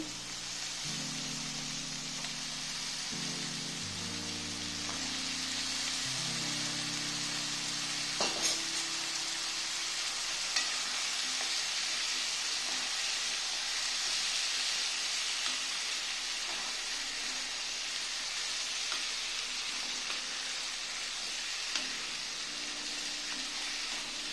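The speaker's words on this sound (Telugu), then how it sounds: "వంకాయలు వేసేస్తానండి" Brinjals frying in plenty of oil for a Telugu-style oil eggplant curry, a continuous loud hissing sizzle with occasional stirring clicks, steady throughout under faint background music.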